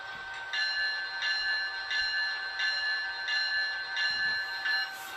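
Electronic bell fitted to an Atlas HO scale Dash 8 Gold Series model locomotive, ringing in a steady repeating pattern of about seven even, bright clangs, fairly close and alone.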